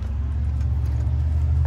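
A truck fitted with loud aftermarket exhaust pipes passes nearby outside a double-wide mobile home, its deep rumbling engine drone steady and heavy throughout the short stretch.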